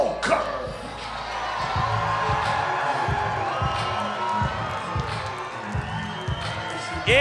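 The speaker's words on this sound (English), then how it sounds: "This crowd are on their feet." A fight crowd in Kansas City on its feet cheering for local fighter Bobby Voelker's entrance at a Shamrock event, a loud sustained roar with shouts and whoops running under an announcer's voice.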